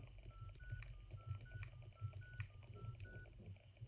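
A quick run of short keypad beeps from a Nokia 6300 mobile phone, about a dozen tones pressed one after another, faint over a low background hum.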